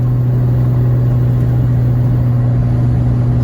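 A diesel pickup engine under full throttle grinds up a hill in a low gear, its loud, steady drone and rumble holding constant throughout with no voices.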